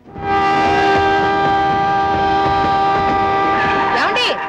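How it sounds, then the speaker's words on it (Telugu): A loud, sustained train horn blares close by over the rumble of an arriving train, fading with a rising squeal at the end. "ట్రైన్ వచ్చేసి తొందరగా రండి."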